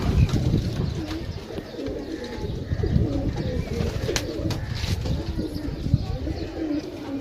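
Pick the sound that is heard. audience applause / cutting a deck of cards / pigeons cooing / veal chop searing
pigeons cooing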